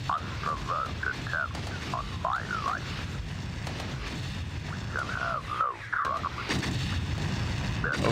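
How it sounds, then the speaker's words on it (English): Space combat in the video game Independence War, with repeated blasts and warbling laser-like bursts over a rumbling background, while a person talks over the action. "Oh, they're like shooting each other."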